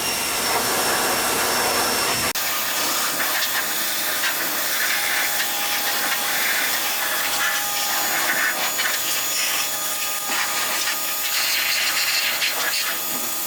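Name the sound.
pressure washer cleaning a truck chassis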